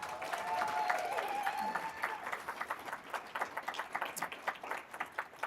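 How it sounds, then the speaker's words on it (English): An audience at an awards event claps for a new board chair, starting under a brief voice and settling into a steady, rhythmic run of many hands clapping, fairly close and lively. "I want a joyous clap."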